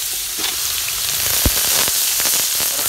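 Onion and chicken fry in oil with a steady, loud sizzle and crackle, punctuated by a few sharp pops, close up and with no talking.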